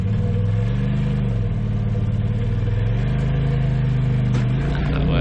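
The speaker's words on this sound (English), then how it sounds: "that's just going to spin the tires, so I have to hit it with a little bit of speed" Off-road vehicle engine revving hard as wet tires spin while it tries to climb a slick waterfall at an off-road park, a loud, close, sustained engine roar rising and falling in pitch.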